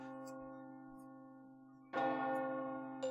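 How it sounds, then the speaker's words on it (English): A church bell in a video game strikes midnight: a long ringing tone fades slowly, then two louder, bright strikes follow, the second cut short, with no voices. "The bell has struck midnight."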